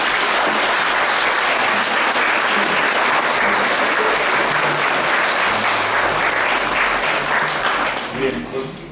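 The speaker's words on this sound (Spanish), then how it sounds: "Bien, pues muy aplaudido, Adriana." Guests at a quinceañera party in Villa de Cos, Zacatecas, applaud loudly in a long, dense burst, a close and steady roar of clapping that thins out near the end as voices come in.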